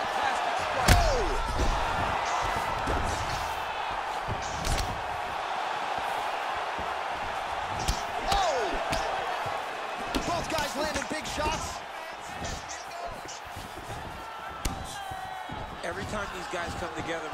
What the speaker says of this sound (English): You just hear the punches and everything landing.